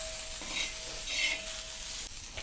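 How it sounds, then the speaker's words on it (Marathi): Fried okra being stirred with crushed peanuts in a pan, a soft, faint sizzle with brief scraping strokes of a spoon at intervals. "कूट टाकल्यानंतर छान असं मिक्स करून घेते"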